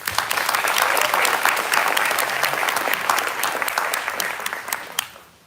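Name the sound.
audience applause for graduating class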